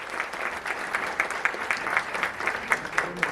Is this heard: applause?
yes